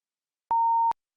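A classroom timer goes off with a single steady electronic beep, a clean sustained tone lasting under half a second, loud and alone against silence.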